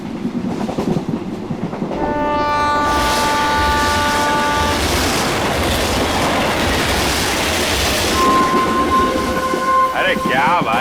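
A train runs along a railway with a loud, continuous rumble and rhythmic wheel clatter close by. Sustained horn tones sound over it twice, and a short squeal rises near the end.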